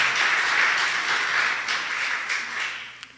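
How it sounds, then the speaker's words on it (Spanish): A church congregation applauding during a Sunday service: a dense, sustained wash of many hands clapping together, fairly loud and even, fading slightly toward the end, with a faint murmur of voices underneath. "Esos aplausos son para el Señor."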